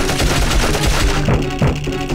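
Rapid-fire shots from Osmond in the video game Dark Cloud, a dense, loud, continuous stream of quick gunfire with no pauses.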